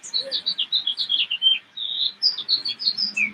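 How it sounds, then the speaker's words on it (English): Birdsong in a garden: a run of bright, quick chirps and warbled phrases, moderately close and continuous, with a short pause midway and faint low background noise. "There's a bird that has a really beautiful voice."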